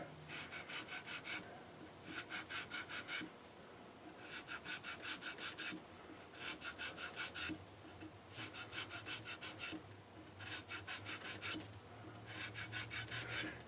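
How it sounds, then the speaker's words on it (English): The sides of an Ibanez RG-550M guitar are hand-sanded with 400-grit sandpaper in repeated bursts of brisk back-and-forth rubbing, each stroke sequence lasting about a second with short pauses between, close and alone. "Just want to clean up the sides with this 400."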